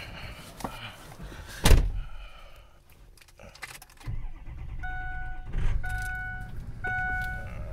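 A 2005 Ford Excursion turbo diesel being entered, with a loud door thud near the start, cabin rustling, then the engine cranking and settling into a steady idle while chimes beep repeatedly, no talk.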